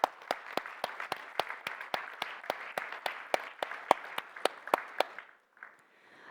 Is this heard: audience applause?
yes